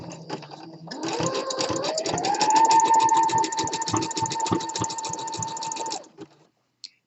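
A sewing machine runs steadily for about five seconds while stitching elastic onto a fabric waistband, its rapid needle clatter rising in pitch as it speeds up, then stopping with a single click afterward.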